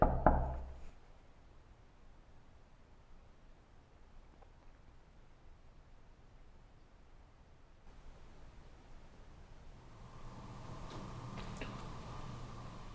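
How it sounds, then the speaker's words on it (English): A single knock or tap in a haunted house at the start, fairly loud against a quiet room, followed by a long stretch of faint background hiss and low hum with no talking. "I just heard you, but I only heard one tap."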